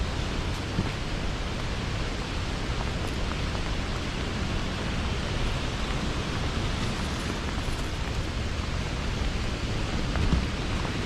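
Rain falling at Nooksack Falls in Washington, a steady, unbroken broadband hiss of water that stays even and full for the whole stretch, with no voices over it.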